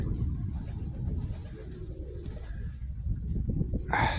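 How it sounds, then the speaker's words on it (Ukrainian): Pigeons coo softly in low, repeated murmurs at a loft where a marbled dove is kept, close but quiet, with a brief higher chirp near the end. "Мраморна голубочка."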